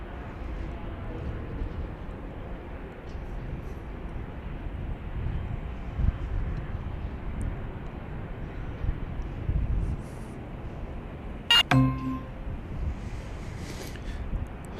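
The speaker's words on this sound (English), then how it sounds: "That was a flight 432 to St. Louis." An airliner on flight 432 to St. Louis rumbles at Dallas Love Field, a broad steady engine roar that stays loud and even throughout, with a brief sharp knock near the end.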